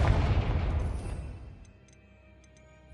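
A Confringo fire spell blast in Hogwarts Legacy booms out loudly and decays over about a second and a half, leaving a quiet tail with a few faint high chimes.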